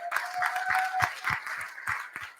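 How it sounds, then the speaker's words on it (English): An event audience claps in a brief burst of applause, the individual hand claps distinct and moderately distant, fairly quiet and without talking over it. "A huge round of applause."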